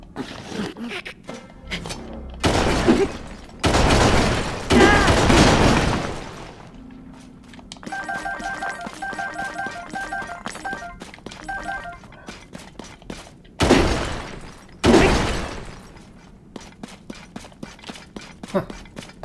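Bomb flower explosions in the video game Zelda: Tears of the Kingdom: several loud, broad booming blasts in pairs, with quieter electronic game tones and effects between them.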